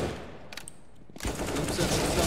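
Rapid gunfire from a competitive shooter video game, a burst of automatic shots after a brief pause, loud and continuous with faint talk beneath.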